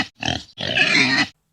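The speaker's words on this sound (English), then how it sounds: "pig." A pig gives two close grunts, a short one and then a longer, rougher snorting grunt, loud and alone.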